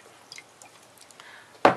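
Water is squeezed out of a soaked makeup sponge, a few faint drips followed by one sudden wet squelch at the end, close up with no voices.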